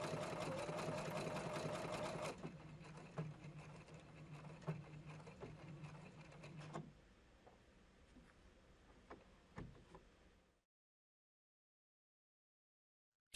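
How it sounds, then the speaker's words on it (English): A Husqvarna Viking Platinum Plus sewing machine stitches with a steady motor whir, then shifts as it halts and ties off, leaving scattered clicks and thumps before falling silent. "Touch fix and the machine stops sewing and ties off immediately."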